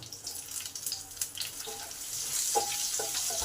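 Cumin seeds and chopped black cumin crackle in hot oil in a pan, a steady close hiss of sizzling with small pops and faint utensil clinks throughout.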